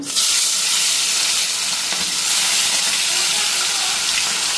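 Fish sizzling in hot oil in a wok, a loud, steady hiss of frying that starts abruptly and continues unbroken throughout.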